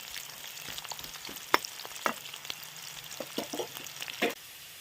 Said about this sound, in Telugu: సన్నగా తరిగిన కొన్ని ఉల్లిగడ్డలు వేసుకొని ఇవి లైట్గా బ్రౌన్ కలర్ వచ్చేంత వరకు వేగెత్తుకోండి